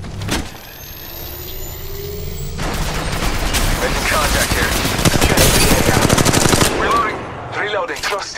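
Automatic weapons fire in the mobile shooter Apex Legends Mobile during a ranked match: a quieter stretch, then dense, rapid bursts of loud gunfire that run nearly continuously from the third second to the end.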